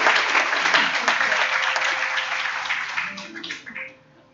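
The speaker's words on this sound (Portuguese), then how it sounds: "Vamos aplaudir ao Senhor pela vida deles aqui." A church congregation at a worship service claps in sustained applause, dense and loud, with a voice speaking over it. The clapping then tapers off and fades out near the end.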